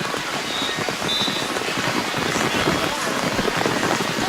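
Steady rain pours down throughout an outdoor NCAA beach volleyball match between LMU and USC, a loud, continuous hiss of drops on surfaces.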